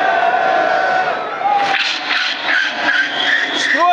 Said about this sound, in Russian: у него сейчас работает двигатель, ну то есть вот он готов к заезду